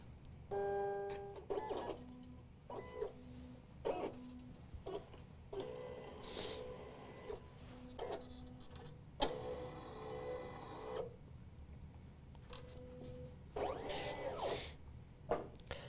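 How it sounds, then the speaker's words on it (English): An electronic cutting machine cutting felt, with motor whirs, stepping tones and short mechanical buzzes that start and stop in an irregular pattern, all fairly quiet. "The machine just finished cutting"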